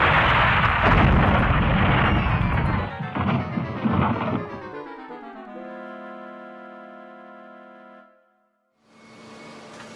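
A loud, prolonged crash of splintering and smashing wood as a train smashes into wooden trucks and derails, then a ringing metallic tone that fades to silence before a brief rustle returns.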